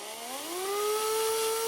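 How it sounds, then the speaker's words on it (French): A power drill bores a hole into a tender, its motor whirring up in pitch over the first half second and then holding a steady, close whine. "j'essaye de percer bien droit"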